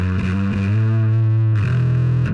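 Bass guitar run through heavy fuzz distortion, the gain pushed higher for a thick, saturated tone; low notes ring out with long sustain and a brief change of pitch partway through, played alone with no voices.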